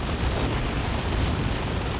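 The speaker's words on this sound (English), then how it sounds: "Should get the Eversor down as the explosion on death" Eversor assassin death explosion in Warhammer 40,000: Dawn of War 2, a dense, loud rumbling blast that fills the whole moment, with battle noise blended in and no speech.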